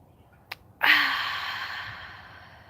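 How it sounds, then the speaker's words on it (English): A single deep breath is drawn in sharply and then released in a long, close, audible exhale, with no talking. "Take a deep breath."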